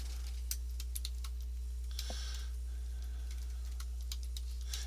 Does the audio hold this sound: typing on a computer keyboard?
yes